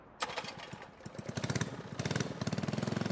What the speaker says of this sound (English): we need to get over here and start our engine